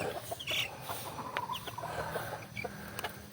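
Pet chicks cluck and peep faintly in a pen, a few brief soft calls over quiet background noise.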